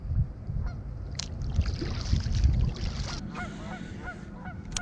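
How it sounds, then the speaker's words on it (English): Geese honking repeatedly from a nearby corner of water during an early spring kayak trip, a series of sharp, nasal calls over steady water and paddling noise, moderately close and fairly loud. "Those are some awfully vocal geese."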